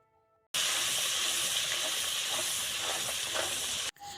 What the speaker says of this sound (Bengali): এবার এই মশলার পেস্ট আমি তেলের মধ্যে দিয়ে দিলাম